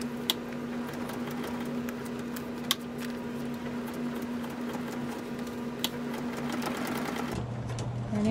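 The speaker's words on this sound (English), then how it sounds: "I'll sew in the corner and I will do the same thing." Sewing machine stitching the corner of a paper-bag mini journal, a steady close mechanical hum with a faint rapid needle rhythm and a few sharp clicks, running continuously before the tone shifts near the end.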